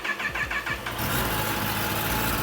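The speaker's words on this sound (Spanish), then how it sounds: "lo que va a hacer es prender la motocicleta" A Kawasaki ZX10R motorcycle engine starts, a few quick cranking pulses catching into a steady, close idle rumble.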